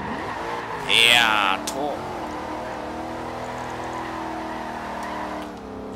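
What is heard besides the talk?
car drifting and spinning in video game Forza Horizon 2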